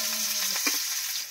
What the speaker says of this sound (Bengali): কড়াই দিয়ে দিচ্ছি, পেঁয়াজ কুচি।